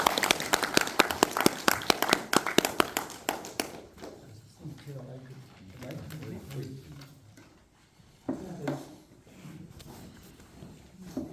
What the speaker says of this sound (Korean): 박수로 청해 듣겠습니다